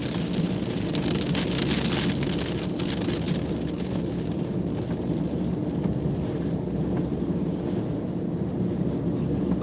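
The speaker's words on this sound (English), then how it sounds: "Buckets of rain." Heavy rain drums steadily on a moving car while driving home, a dense, loud wash of noise with road rumble beneath, continuing unbroken and easing slightly toward the end.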